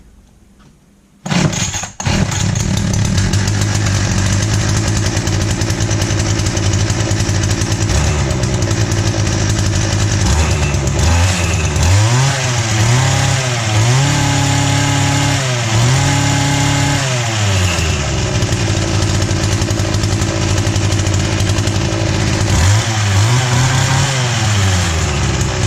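A Craftsman Bushwhacker gas hedge trimmer with a newly repaired grounding wire starts and runs close by, then revs up and down several times between a steady loud idle.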